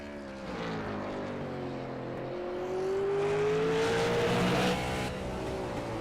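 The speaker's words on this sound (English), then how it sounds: "Chase Williamson hitting the racetrack in car number 51" Race car number 51 in a SARA Ourisman National Tour event at the Slinger Nationals, its engine note rising and swelling as it approaches and passes on the track, loud and continuous.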